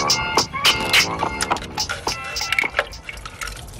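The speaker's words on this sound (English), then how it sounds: "You see all the water coming out?" Water drains and splashes out of a Chevy single-cab truck engine full of water and oil, with close, irregular trickling and dripping bursts.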